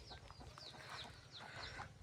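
Free-ranging village chickens cluck and chatter nearby in short, scattered bursts, with a quiet outdoor rural backdrop and a sharper sound right at the end.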